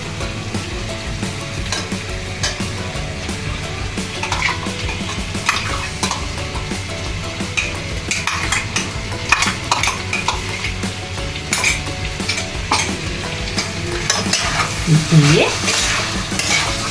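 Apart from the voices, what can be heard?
green paste frying and stirred into chicken in pan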